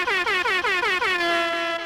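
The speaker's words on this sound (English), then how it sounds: "I was hoping there was going to be an air horn there or something." A loud air horn blares in a rapid series of short repeated blasts, then holds one long sustained tone before cutting off.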